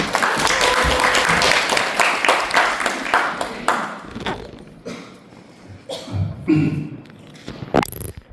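An audience at an addiction recovery forum claps for the first presenter, a dense burst of applause for about four seconds that thins into scattered claps and small room noises.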